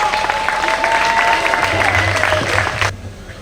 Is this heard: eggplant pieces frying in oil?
no